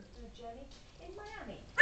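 An African grey parrot mimics a dog with a short series of whimpering, yipping vocal sounds, ending in a sharp bark-like burst, close and alone.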